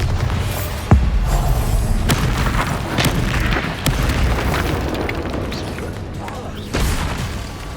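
Bombarda spell blasts from the video game Hogwarts Legacy land as heavy booming bursts within continuous loud battle noise, with a sharp hit near the start and another near the end, and a voice shouting over the fighting.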